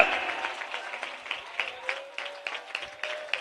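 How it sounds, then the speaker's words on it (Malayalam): A church congregation claps in a short burst of applause, crisp and fairly close, the rhythm uneven with a few louder peaks, while a faint tone lingers underneath. "ഒന്ന് കൈയടിച്ചാമേ പറയാമോ?"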